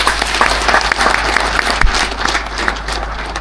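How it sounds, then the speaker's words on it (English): A crowd applauds steadily at an agribusiness entrepreneurs' event addressed by Zambian President Hakainde Hichilema, a dense wash of clapping that holds throughout without a break. "May we clap for the farmers."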